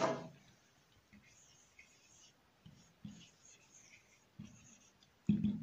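Chalk or marker writing on a classroom board while a teacher writes out a French sentence, a faint scratchy stroke sound running quietly through the clip with a few brief bumps and a short voice at the end.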